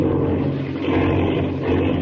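A roaring, droning airplane engine from an old-time radio drama sound effect as the plane spins out of control, loud and continuous with a steady rumble throughout.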